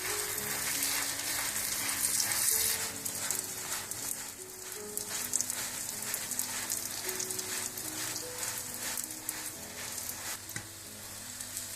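Radish paratha sizzling in a pan on a low flame while being moved around, a steady crackling fry with soft stirring scrapes throughout.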